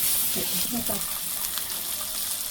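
Spicy chicken balls frying in hot oil, giving a steady close sizzle and crackle throughout, with a brief stretch of speech-like sound early on.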